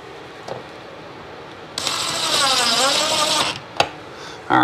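A power drill drives screws through a mini split mounting bracket into a sheetrock wall, one steady whirring run of about two seconds with short clicks before and after it, close by.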